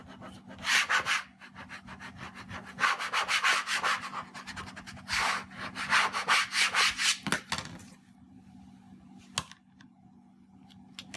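A burnisher rubbing sticky vinyl down onto a plate, in repeated bursts of dry scraping strokes separated by short pauses, close and fairly loud, ending in quieter handling noises.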